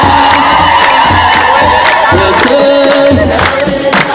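Ethiopian Orthodox congregation at St. Gabriel church ululating with high, sustained trilling calls over loud, dense crowd noise and rhythmic clapping, filling the whole stretch close and energetic.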